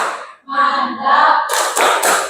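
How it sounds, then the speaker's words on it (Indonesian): A school group in a classroom performs the "tepuk mantap" cheer: voices chant together in unison, then a burst of loud, close hand claps follows. "tepuk mantap untuk kelompok yang terakhir"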